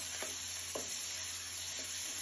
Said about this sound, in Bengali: চালটা ভালো করে নেড়ে নিব।